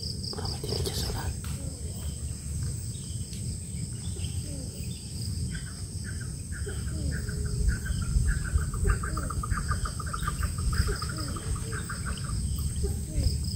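Birds call outdoors near evening, scattered chirps and whistles rising over a dense, steady chorus of insects and a low rumble. The calls grow busier in the second half and stay moderately close, with no clear talking.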